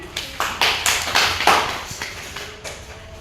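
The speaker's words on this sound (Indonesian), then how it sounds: "Tepuk tangan." Classroom applause in a biology microteaching lesson: a short burst of students clapping, with distinct claps and swells that fade away after about three seconds.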